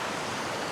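Steady rushing flow of river water at Kings River, a dense, even wash of sound filling the scene without pause.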